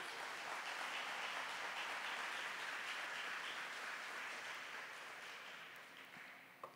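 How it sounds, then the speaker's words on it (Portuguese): A church audience breaks into sustained applause, a dense wash of many hands clapping that holds steady and then slowly fades out. "Vamos aplaudir essa misericórdia de Deus?"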